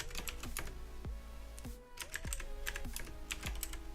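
Steady typing on a computer keyboard while writing code, a quick irregular clatter of individual key clicks with occasional heavier keystrokes, close and fairly quiet.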